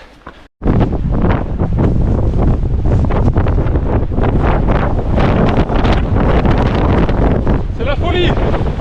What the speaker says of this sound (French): les rafales